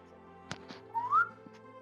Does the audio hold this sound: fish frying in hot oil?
no